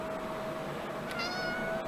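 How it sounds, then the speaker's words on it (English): A pet cat meows indoors at close range, one short call rising near the end over a steady hum of room noise. "It's time to go freak out my cat."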